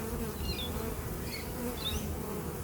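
Honey bees buzz continuously around an open hive during a full inspection while a Flow Hive honey super is fitted, a steady close drone with individual bees flying past.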